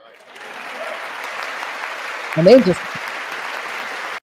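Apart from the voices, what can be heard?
crowd clapping at rally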